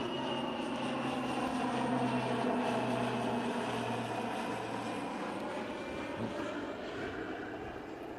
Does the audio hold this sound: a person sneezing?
no